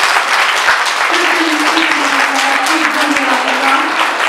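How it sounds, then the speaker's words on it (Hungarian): Lower-school children at a Valentine's Day morning assembly give a big round of applause, loud, dense clapping from many small hands, with faint voices calling out beneath it. "Nagy tapsot Mancsika"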